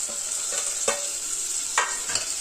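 Tomatoes sizzle in a pan with onion, garlic and curry leaves, a constant bright frying hiss broken by a few short stirring scrapes, close and unaccompanied by voices.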